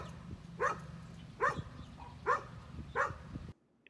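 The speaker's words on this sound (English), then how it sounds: "she was barking because a leaf had fallen onto the driveway" A dog barks four times in an evenly spaced series, sharp and moderately close, set off by a leaf landing on a driveway, with low background noise underneath and no talking.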